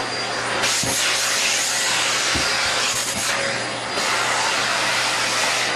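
A vacuum cleaner runs steadily throughout as a loud, constant broadband whir with a low hum, punctuated by a few brief thumps, with no talking.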